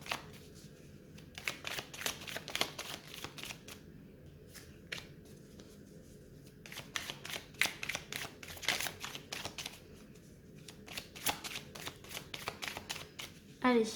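Tarot cards are shuffled and drawn with crisp riffling and snapping flicks throughout. A voice speaks quietly underneath.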